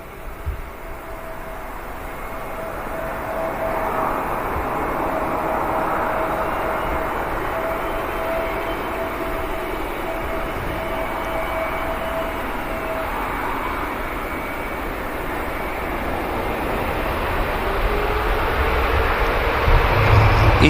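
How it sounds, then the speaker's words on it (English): An EasyJet airliner arriving at Manchester Airport makes a broad, steady jet roar that swells gently and holds for about twenty seconds, with wind noise and a faint whine over it. "EasyJet arrives."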